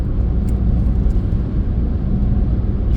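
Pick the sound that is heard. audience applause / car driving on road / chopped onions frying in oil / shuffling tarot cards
car driving on road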